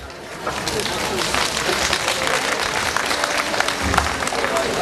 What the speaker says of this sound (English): Applause, will you?